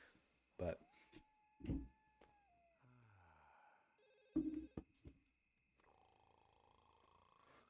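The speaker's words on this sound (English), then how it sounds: "That was the phone ring, but we'll skip that one for now." A telephone rings in The Sims 1 video game, with bright electronic bursts repeating in a short sequence over game sounds, followed by a single word of speech.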